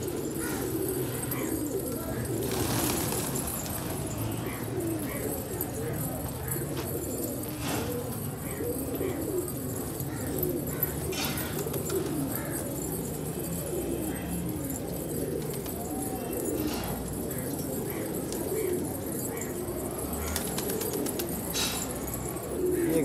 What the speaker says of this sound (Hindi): बड़ा वी आई वी कबूतर है ये भी